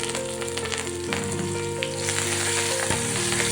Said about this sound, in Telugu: తాలింపు అయిపోయింది. స్టవ్ ఆఫ్ చేసుకుందాము.